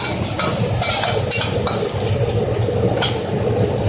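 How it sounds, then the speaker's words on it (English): Eggplant pieces dusted with cornstarch and salt fry in a pan with a little oil, giving a steady, loud sizzle with faint scraping and stirring clicks throughout, no voices. "We're going to start off with just a little bit of eggplant, just to get it fried up a little bit."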